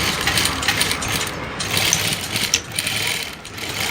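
Sewing machine running continuously while stitching a readymade saree, a steady close mechanical whir with fast stitch rhythm throughout.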